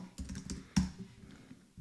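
A few keystrokes typed on a computer keyboard, a short uneven burst of close clicks with one louder tap in the middle and a last tap near the end, with no talk.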